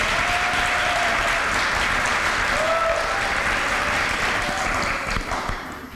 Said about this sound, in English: That applause was for your mom too.